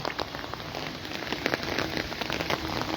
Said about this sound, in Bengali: দেখো প্রচুর বৃষ্টি পাচ্ছে